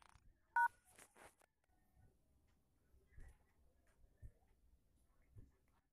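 A mobile phone sends dialing tones after a star-and-hash code is entered and the call key pressed: one short, sharp tone burst near the start, then faint scattered ticks in a quiet room.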